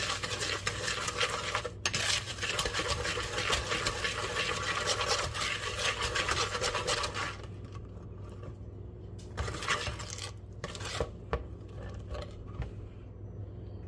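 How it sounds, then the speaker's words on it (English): Melted butter mixture whisked in a bowl for a carrot cake, a fast continuous scraping swish of the whisk against the bowl that thins out into shorter strokes and pauses near the end. "Okay, let's whisk that up."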